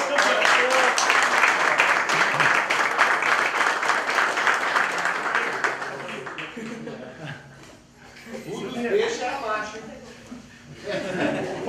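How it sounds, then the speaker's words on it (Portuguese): Applause rings out for the champion of a sport fishing tournament, dense clapping from a gathered crowd that fades midway, then gives way to scattered chuckles and voices talking nearby. "uma salva de palmas para o campeão"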